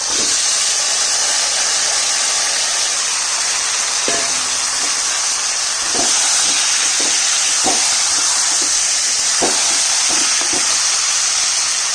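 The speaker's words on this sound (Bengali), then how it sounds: "পেঁয়াজটা ভাজা হয়ে গেছে। ম্যারিনেট করা মাংসটা দিয়ে দিলাম।" Marinated mutton tipped into a pan of fried onions for a thin home-style goat curry, giving a steady loud hiss and sizzle with scattered stirring clicks and knocks, and no voices.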